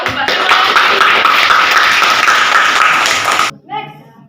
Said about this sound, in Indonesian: tepuk tangan untuk Mbak Semari